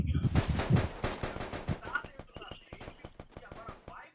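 Gunfire in the Free Fire battle royale mobile game: loud rapid bursts of automatic shots at first, then tapering into scattered single cracks, with no talk over them.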